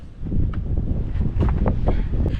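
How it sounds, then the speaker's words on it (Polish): Cold wind gusts at a lookout tower in the Bieszczady mountains, buffeting the microphone with loud, rough low rumbling and flutter throughout. "Widoki są przewspaniałe, ale jednak wieje zimny wiatr."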